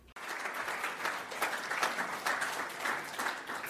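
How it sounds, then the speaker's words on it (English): An audience applauds at a 2007 sustainability talk, a steady dense patter of many hands clapping that starts abruptly and keeps going, heard from a moderate distance. "Frank can actually hear that applause."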